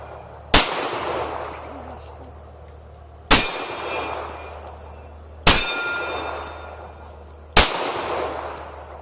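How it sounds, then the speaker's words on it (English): Four loud, sharp pistol shots from a Smith & Wesson M&P45 2.0 crack outdoors, each spaced a couple of seconds apart with a ringing, decaying tail. "Nine shots."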